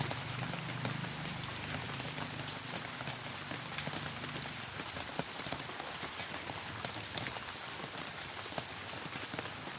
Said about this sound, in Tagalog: Kahit umuulan, tuloy.